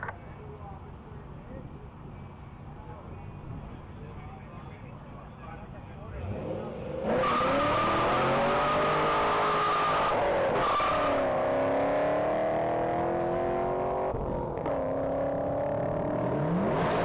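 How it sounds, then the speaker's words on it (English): An orange 2010 Chevy Camaro SS at a Texas Mile top-speed event, taking a corner at speed. It begins as a distant rumble, then swells into a loud, sustained engine roar with rising and falling whines, and a voice talks underneath. "that SS is on track and going through the corner at 110"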